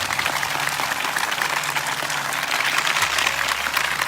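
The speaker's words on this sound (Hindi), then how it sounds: "आओ उसके लिए जोरदार तालियां" Dense, steady applause fills a revival meeting in Sahiwal as the church congregation claps loudly and continuously, with a faint low hum running underneath.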